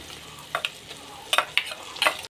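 Ground spice paste hits hot mustard oil in a wok, giving a few short, sharp sizzling bursts with brief stirring scrapes in between over a quiet background.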